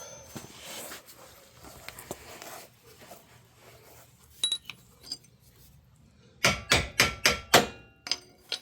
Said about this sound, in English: I am being super gentle with my hammer